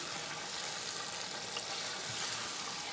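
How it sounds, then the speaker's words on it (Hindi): Beef stock (yakhni) poured into a hot pot of Hyderabadi beef pulao, giving a loud, continuous sizzle and bubbling hiss that holds steady throughout. "ये देखें बिस्मिल्लाहिर्रहमानिर्रहीम, यखनी को ऐड करेंगे।"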